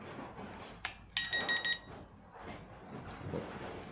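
An RF strobe siren alarm lets out a brief electronic beeping tone when paired with its sensor, a short close chirp lasting under a second amid quiet room noise.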